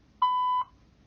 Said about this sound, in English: Please leave your message after the tone.